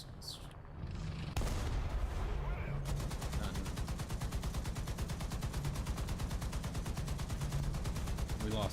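A tank's anti-aircraft gun fires in War Thunder, a loud, rapid, steady stream of automatic shots after a brief lead-in, continuing without pause.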